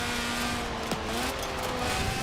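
A Fiat X 1/9 brakes hard into a corner during a B Class rally in Forza Horizon 4. A steady, bright rush of engine and road noise is broken by a brief tire chirp, with no talking.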